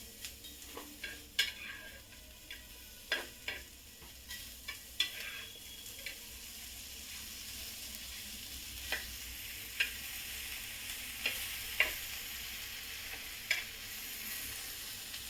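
Food for a winter tomato soup is flipped and roasted in a pan, giving a soft ongoing sizzle broken by a series of sharp utensil scrapes and taps against the pan, quiet and close.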